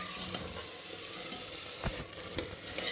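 Small potatoes fry with masala for a jackfruit curry, a dense continuous sizzle close by with a few spoon scrapes and stirring knocks.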